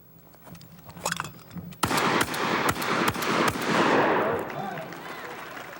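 An exhibition shooter at a 1997 outdoor fair fires a shotgun at a handful of self-tossed clay targets, five sharp blasts cracking out in rapid succession with a rolling outdoor echo after the last.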